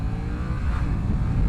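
A new Yamaha FZ-07 motorcycle on its first ride, its engine revving under light throttle with a steady, rising drone mixed with rushing wind.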